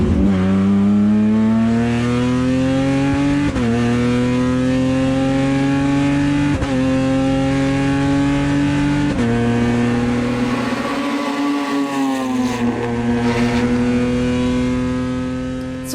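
A Sprint Race stock car with a 3.6-liter V6 roars steadily at Homestead-Miami, its engine note holding high and shifting through several gear changes, loud and close throughout with no talk.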